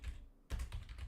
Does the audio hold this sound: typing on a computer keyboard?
yes